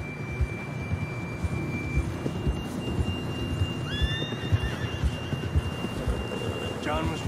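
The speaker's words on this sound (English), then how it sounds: "John was riding that horse when we left Blackwater." Horses in Red Dead Redemption 2 snort and whinny over a steady bed of galloping hooves, with a bright rising neigh near the end, heard beneath the voice of a character talking.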